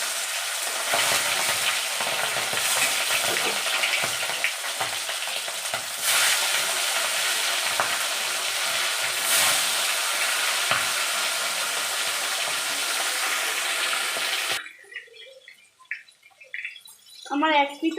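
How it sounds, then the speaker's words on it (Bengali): Pieces of bhola fish fry in hot oil in a pan, a loud, dense, continuous sizzle that lasts about fourteen seconds and then cuts off abruptly, leaving a quieter background. "এবার আমি মাছগুলোকে একে একে তেলে ছেড়ে দেব।"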